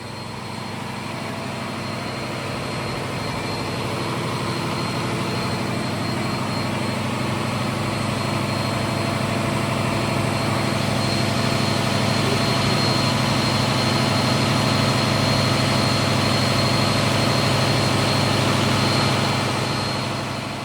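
A steady, loud drone from Scania diesel generators runs without a break, low rumbling with a constant hum, close by, at an Arctic outpost on Bjørnøya.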